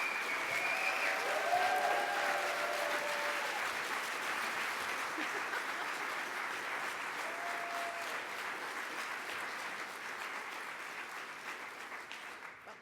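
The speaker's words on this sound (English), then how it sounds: "So please give a big round of applause and a warm welcome to Carol Backhouse." Sustained applause from a conference audience during a morning session, steady and dense for the whole stretch, slowly tapering toward the end, with faint voices mixed in.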